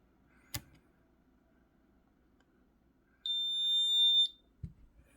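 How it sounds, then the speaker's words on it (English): A security system alarm buzzer sounds a single steady high-pitched tone for about a second, loud and near, between a couple of soft knocks in an otherwise quiet room. "The buzzer's going off."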